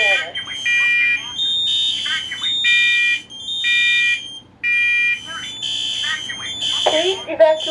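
A smoke alarm sounds in a house with repeated shrill electronic beeps in on-off bursts, close and loud, as a synthesized voice announces an alarm and calls for evacuation.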